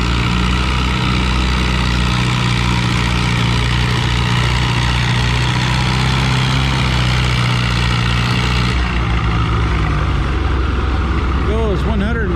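A Massey Harris 444 tractor pulls a sled at a tractor pull, its engine droning loud and steady with low rumbling harmonics throughout, over the murmur of a crowd.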